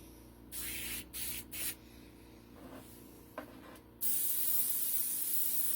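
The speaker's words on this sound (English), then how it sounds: "Now, I should have a rich spray tank." Several short bursts of hissing spray, then a long steady spray that continues to the end, close and fairly loud with no talking.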